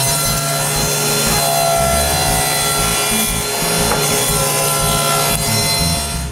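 A walnut post is cut on a bench saw, giving a loud, continuous rasping and grinding with a rough, even texture that holds steady for the whole stretch, with no talking.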